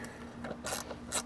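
Screws being backed out from behind a car's glove box, heard as a few short, close mechanical clicks and scrapes in quick bursts over a faint steady hum.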